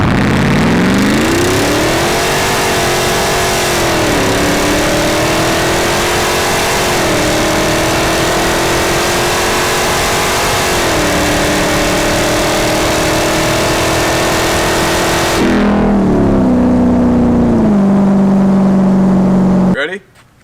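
A Hellcat-swapped Jeep Gladiator's V8 roars loudly and continuously as it accelerates hard, the engine note climbing in pitch through several gear changes before cutting off abruptly at the end.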